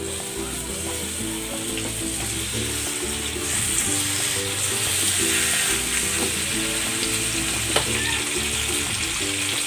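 Chicken sears in cooking oil in a pan, giving a steady, close frying sizzle that runs the whole time, with a few faint utensil scrapes and clicks over it.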